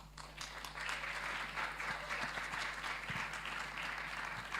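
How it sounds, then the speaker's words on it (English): Audience applause at the CARIFESTA XV festival, a fairly faint, even patter of clapping from a crowd that continues for a few seconds with scattered louder claps, without speech. "I think he needs another round of applause."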